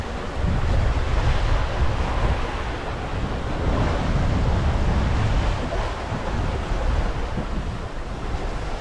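Constant rushing wash of sea waves and gusting wind around a sailboat moving fast under sail, a dense, loud roar with no speech.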